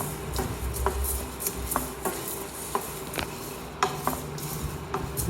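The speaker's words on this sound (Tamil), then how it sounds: "சட்டி நல்லா காஞ்சி விட்டு காஞ்ச உடனே தனியாவை போட்டு வறுக்கணும்." Coriander seeds are dry-roasted in a hot pan for homemade rasam powder, with light scattered clinks and scraping stirs of a utensil against the pan over a faint background hiss.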